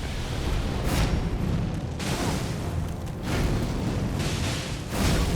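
An explosion during an Elden Ring boss fight against Messmer the Impaler, heard as loud booming bursts that recur several times over a dense, rumbling game mix, with no talking.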